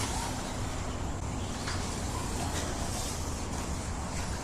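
A Kyosho RB5 mid-motor RC buggy drives around a dirt-tuned track, its electric motor whining in a steady continuous rush with faint bumps from small jumps, fairly close and loud.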